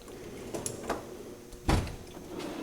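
A metal toolbox wrench drawer slides open in a garage with a short rolling scrape, followed by a sharper clunk as it stops, with a few lighter knocks and rattles of tools around it, close and without talk.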